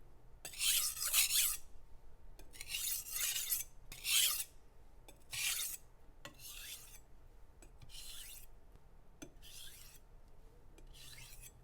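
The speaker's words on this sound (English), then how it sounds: "I sharpened the blade on the Imanishi 400, Naniwa Pro 800, and then I polished the knife on a Naniwa Pro 3000." A vintage knife blade is rubbed back and forth over Imanishi 400 and Naniwa Pro 800 sharpening stones and a Naniwa Pro 3000 polishing stone, giving a series of close, gritty rasping strokes that grow lighter and softer toward the end.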